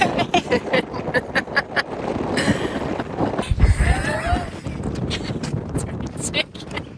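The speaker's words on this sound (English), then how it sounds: "how windy is it? That's ridiculous. Can you hear it?" Strong Badlands wind roars and buffets the microphone in heavy, uneven gusts, with people talking through the rumbling blasts.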